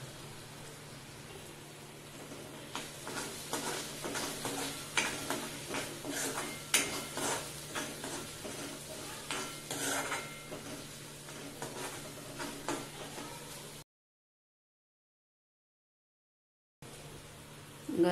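Egg masala curry sautéing in a pan with oil, steady soft sizzle and repeated scraping taps of a spoon stirring for several seconds, then a brief silence before the cooking sound resumes.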